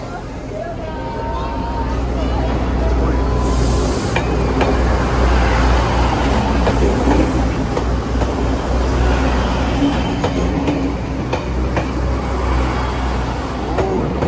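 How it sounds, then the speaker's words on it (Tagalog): A train rumbles past amid a noisy street in Taiwan, its low roar steady throughout, mixed with traffic and a background murmur of voices. "Dumadaan pala talaga ang tren."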